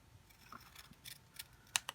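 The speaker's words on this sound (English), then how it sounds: "So I will fussy cut these out." Scissors fussy-cut small paper icons in a quiet room, producing faint, close snips and paper rustles that build to two sharper cuts near the end.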